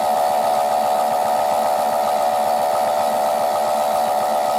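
A toy AEG Öko-Lavamat 86730 washing machine runs its spin wash, its small electric motor giving a steady, loud, high whine with a constant buzzing hum that holds unchanged from start to finish, with no voices.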